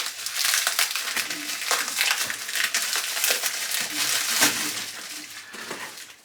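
A knife slicing through the paper wrapping on a parcel makes a run of close, crisp crinkling and tearing rustles, with irregular scrapes and crackles continuing throughout.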